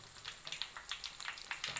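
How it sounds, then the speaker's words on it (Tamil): Oil sizzles and crackles softly as food fries, with quick popping bursts scattered over a steady faint hiss. "எண்ணெய் எப்படி கொதிக்குது பாருங்கள்."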